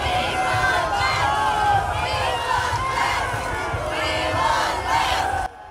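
A huge crowd at LSU's Tiger Stadium roars, shouts and cheers as coach Les Miles walks in before a Saturday night game. The dense, continuous crowd noise swells and dips in waves, with many voices yelling together.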